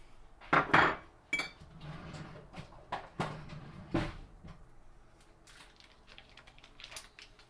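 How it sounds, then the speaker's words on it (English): A metal fork clinks and scrapes against a pot while mashing potatoes with butter, a handful of sharp close knocks early on, then quieter scraping that thins out. "I'm using a fork because I do not have a masher"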